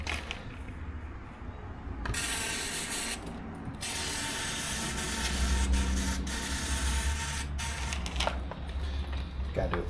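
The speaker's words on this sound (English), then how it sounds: "So I'm going to spray the tube down" A hissing aerosol lubricant spray in bursts into a garage door tube over a steady mechanical whir, the hiss stopping and starting several times.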